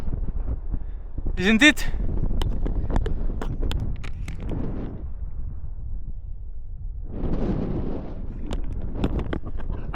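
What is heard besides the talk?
wind blowing at the edge of a hill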